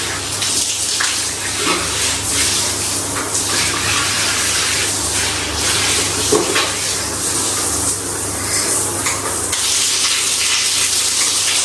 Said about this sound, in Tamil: அது ஹேண்ட் ஷவர்.